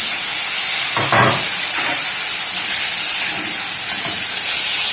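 Boiled meat hits frying onions that have turned golden for a green bean stew, setting off a loud, steady sizzle and hiss, with a brief stronger spatter near the start and no talking.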